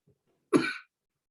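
A single short, sharp cough sounds close by in a classroom, preceded by a faint murmur.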